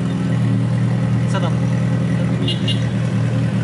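A car with an LS V8 engine runs with a loud, deep, constant rumble, while brief voices are heard faintly over it.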